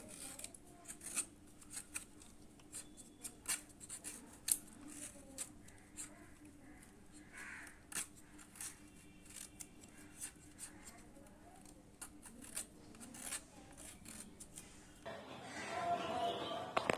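Green mango being peeled by hand with a knife or peeler, producing a run of soft, repeated scraping and snipping strokes at close range, steady and fairly quiet, ending in a brief louder rustle.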